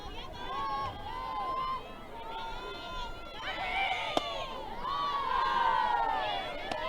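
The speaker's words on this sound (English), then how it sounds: "Good crowd here at Kelly Field." Bundled-up crowd at a college softball game at Kelly Field, Oregon versus Oregon State, a murmuring hubbub with shouts and cheers rising and falling, voices chattering throughout.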